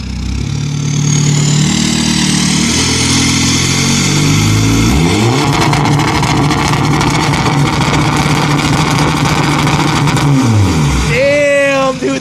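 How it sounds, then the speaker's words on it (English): A loud turbocharged diesel car engine, recorded close to the exhaust in a parking lot, revs up, holds a roaring high pitch for several seconds, then drops off, followed by a whistling turbo spool and flutter. "Will you rev it one more time before we bounce?"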